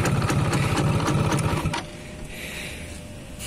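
A 2002 Yamaha F1ZR Caltex Special Edition two-stroke motorcycle engine idles with a rapid, buzzy ticking that cuts off abruptly partway through, leaving a quiet hiss.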